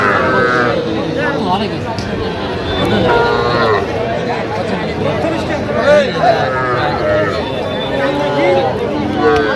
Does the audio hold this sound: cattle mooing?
yes